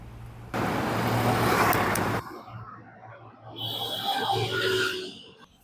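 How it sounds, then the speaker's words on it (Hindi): Busy city road with heavy traffic: a loud, steady roar of passing vehicles for a couple of seconds, then quieter road noise with a horn-like tone and distant vehicles continuing. "तो अब हम प्रॉपर बिजी रोड में हैं जहाँ पे काफ़ी ट्रैफिक है"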